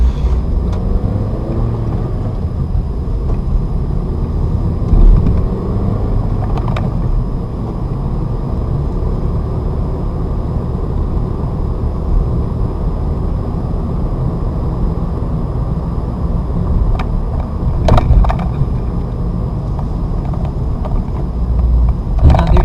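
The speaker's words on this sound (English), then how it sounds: "Clutch up to bite point, small taps of the gas, car starts to roll, gas off, clutch out, accelerate." A manual transmission car pulls away from a stop, including on a hill, with a steady low engine drone that rises as it accelerates, heard from inside the car with no talking.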